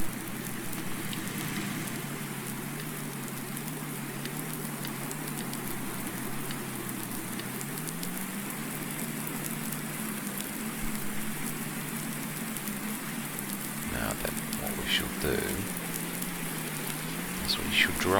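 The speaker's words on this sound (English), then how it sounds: "Lovely, there's the rain." Rain falls steadily in a farming video game, a continuous hiss of drops on surfaces with a low engine-like drone underneath and a few louder clatters near the end.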